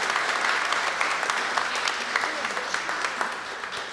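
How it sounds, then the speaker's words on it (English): A studio audience at a vintage comedy radio broadcast gives executive producer Ellie Babka a steady round of applause, dense, even clapping from many hands throughout with a voice faintly under it. "So give her a round of applause"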